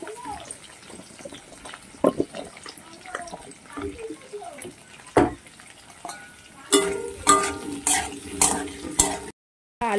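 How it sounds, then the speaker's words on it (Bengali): Potatoes fry in a pan while a metal spatula scrapes and clatters against it in irregular strokes, a sharper burst of sizzling and scraping toward the end. "এবার আলুগুলোকে আমি একটু ভালো করে ভেজে নেব।"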